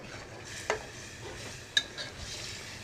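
Meat fries with cumin in a pan, giving a soft steady sizzle with a couple of sharp clinks as a spoon stirs and scrapes against the pan.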